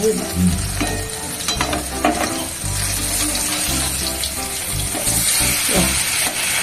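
Fish coated in rice flour frying in a pan on a gas flame, a loud close crackling sizzle that runs steadily with occasional scraping and bubbling bursts.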